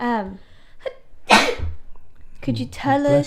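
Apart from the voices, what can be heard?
sneeze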